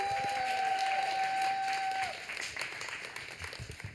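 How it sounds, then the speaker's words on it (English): Applause from an audience greeting the first speaker at a Boston poetry gathering, a crowd's clapping spread through the room, with a long whoop or whistle riding over it before the clapping thins out. "Can we get a round of applause for our first speaker"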